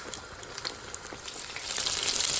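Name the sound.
fish frying in hot oil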